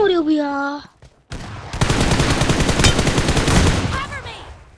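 Rapid machine-gun bursts and scattered gunshots from an online shooter match run loud and continuous for several seconds, following a short announcer-style voice line and a brief gap.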